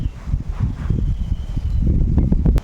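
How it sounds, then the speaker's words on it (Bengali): Steady low rumble of wind buffeting outdoors, constant throughout, with a few faint clicks near the end. "হাওয়ায় হলুদ গুঁড়ো উড়িয়ে নিয়ে যাচ্ছে এত হাওয়া দিয়েছে"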